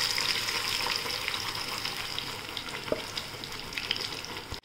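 Ground onion, tomato and ginger paste hits hot oil in a kadhai for a green gram kofta curry, a strong sizzling crackle that gradually settles, with a clink of a utensil midway.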